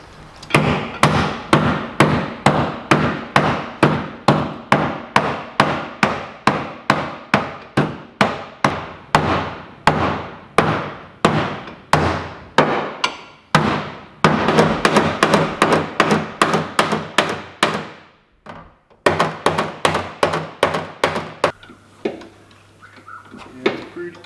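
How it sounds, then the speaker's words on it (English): Repeated heavy hammer blows ring out in a fast, steady rhythm, loud and metallic, with a brief pause near the end. "the hammer just works better"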